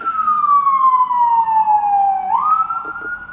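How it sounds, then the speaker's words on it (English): An ambulance siren sweeps downward in a single long wail, then jumps back up, loud and close, with traffic rumble underneath. "Shut up, you annoying ambulance."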